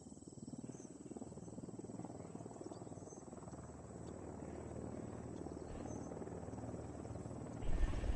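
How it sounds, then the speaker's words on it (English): A helicopter in the Ghost Recon game throbs at moderate level, a steady pulsing rotor drone with a faint insect-like buzz above, swelling slightly near the end. "Is that a chopper for us? We'll need that chopper."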